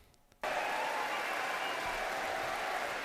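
Sustained applause fills the chamber of the US Congress during a speech by Netanyahu, starting abruptly and continuing as a dense, steady wash of clapping from a large crowd, with no voices on top.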